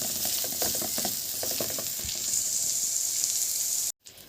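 Chicken pieces for piccata sizzle steadily in a frying pan with a loud, continuous hiss and occasional crackles and stirring sounds. The sound cuts out abruptly near the end, followed by a brief quieter tail.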